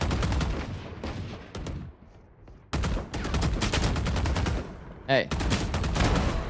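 Gunfire from the tactical shooter Valorant, a few sharp shots broken up by short gaps, loud and close with a brief spoken exclamation over it.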